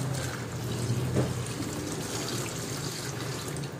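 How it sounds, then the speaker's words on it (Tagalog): Water pours steadily with a soft splashing rush, close by and continuous for a few seconds, no voices. "buhos na natin ang tubig"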